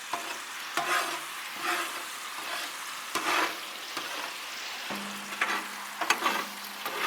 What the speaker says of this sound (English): we're going to pull some of the eggs over into that bacon grease